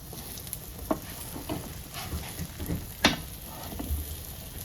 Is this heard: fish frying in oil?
yes